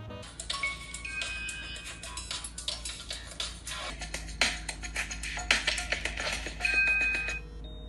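A phone rings with an incoming call, a repeated bright electronic ringtone pattern heard close and alone, with no talking.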